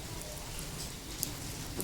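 Afternoon rain falls steadily outside a house as an even, faint hiss of drops spattering on surfaces, with no voices.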